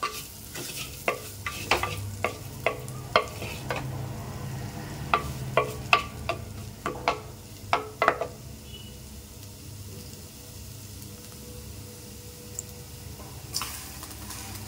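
Ingredients for kuzhambu, including chili powder, roasting in a pan. A spatula scrapes and taps in a quick rhythmic series of sharp clicks over a steady sizzle, then the stirring stops and a quieter fry continues.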